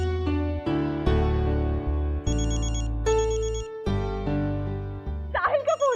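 A melodic phone ringtone plays a short repeating tune of bright electronic notes, loud and close, before a voice briefly cuts in.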